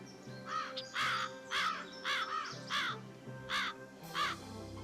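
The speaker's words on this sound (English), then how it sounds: "Why doesn't this bird want me to take a photo of them?" A crow cawing repeatedly outdoors, about seven harsh calls in an uneven, steady series, fairly clear and moderately close, with no talking.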